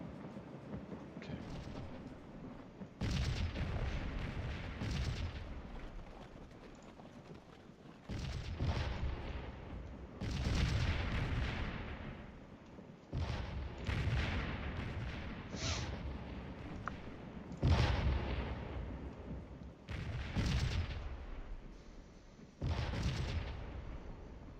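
Artillery guns firing during a Battle of Stones River scenario in the Scourge of War game: repeated deep booming blasts at irregular intervals, each with a long rumbling tail, over a steady low battlefield background with no talk.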